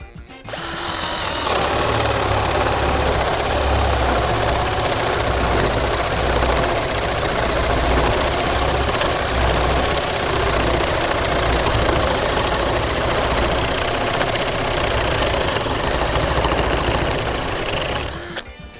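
A Dnipro-M CD-218 cordless drill runs under load, its motor whining steadily for nearly the whole stretch at a loud, close, constant pitch with no voices over it.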